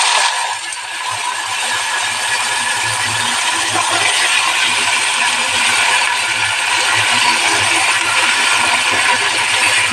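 Drumstick stalks and potato hit hot oil with cumin seeds, producing a loud, continuous close sizzle and crackle of frying that holds steady throughout.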